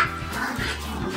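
Dogs barking and yipping indoors at home, a few short close barks and whimpers over a low background hum.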